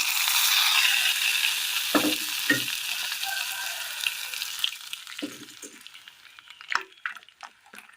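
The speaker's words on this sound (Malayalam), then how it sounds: "നല്ലതുപോലെ വെന്തെടുത്ത കറിയിലേക്ക് കടുക് താളിച്ച് ചേർത്ത് കൊടുക്കാം" Mustard seed tempering hits a pot of cooked Kerala curry with a bright crackling sizzle that starts strong and slowly dies down, broken by a few clinks and stirring knocks of a spoon against the pan.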